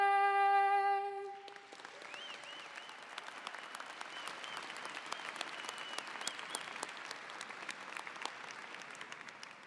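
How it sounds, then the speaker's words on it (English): After a sustained sung final note of the anthem, a large graduation ceremony audience breaks into long, even applause for the soloist, distant and spacious in a big hall, with a few scattered cheers. "Let's give another round of applause for our soloist, Caitlin King."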